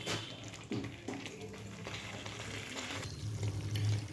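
Meat frying in its own released oil in a pan, a steady close sizzle with occasional stirring clatter throughout.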